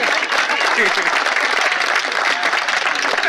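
A live comedy audience claps steadily for several seconds, a dense, even patter of many hands close to the microphone with no break.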